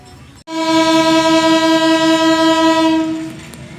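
A Bukit Serelo economy-class passenger train sounds a loud, steady, sustained horn blast on departure, close by, holding for about three seconds before fading.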